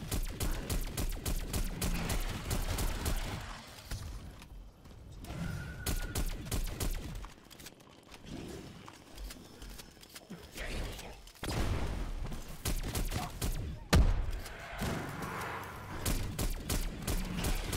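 Pack-a-punch AK rifle in Cold War Zombies, rapid bursts of automatic fire mixed with mechanical clanks and thuds, moderately loud in a busy game soundscape with voices talking over it at times.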